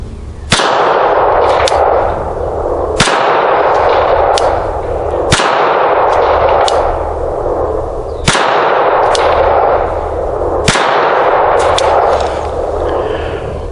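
Live pistol fire during MantisX training: five sharp, loud gunshots about two and a half seconds apart, each ringing out over a steady background roar, with no talking.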